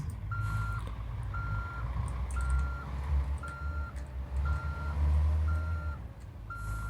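Regularly spaced reversing beeps from a truck hooking up a lowbed trailer in a construction and heavy-machinery video game, pulsing steadily over a loud low diesel engine rumble, with no talk.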